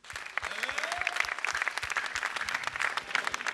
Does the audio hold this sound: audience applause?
yes